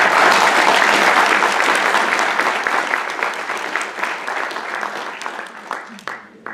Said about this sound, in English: I'd just like to give a quick round of applause for us.